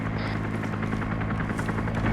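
A helicopter in a combat video game thrums with a steady, dense rotor drone, close and continuous throughout.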